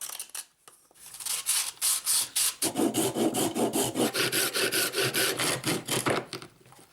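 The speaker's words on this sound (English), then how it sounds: "I switched over to wet sanding because there was just too much dust in the air" Rhythmic rasping strokes of wet sanding a coconut shell, quick back-and-forth scrubbing, close and steady after a brief quiet start.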